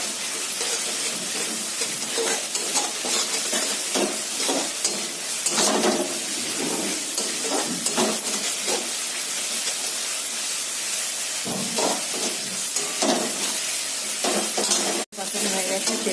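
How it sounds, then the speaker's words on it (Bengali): Sesame and poppy seed paste sautéing in oil in a kadai wok, a steady broadband sizzle broken by repeated scraping stirs throughout, close and fairly loud with no talking. "কড়াইয়ে তিল বাটাটা দিয়ে দিয়েছি, দিয়ে এবার এটা ভালো করে কষাতে হবে"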